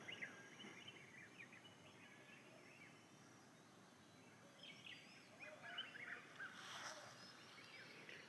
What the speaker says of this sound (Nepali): जङ्गली कुखुरा कराउँदैछ